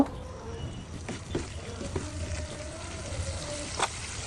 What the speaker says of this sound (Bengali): মশলার ভিতর দিয়ে আমি খুব ভালোভাবে নেড়ে চেড়ে আলুটাকেও মশলার সাথে কষিয়ে নিব